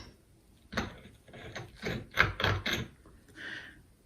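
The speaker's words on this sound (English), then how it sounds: "that sound is the pyrite scratching into the glass" Pyrite mineral scratched across a glass plate, a close series of short, gritty scraping strokes in an irregular rhythm with small gaps between them, heard alone in a quiet room.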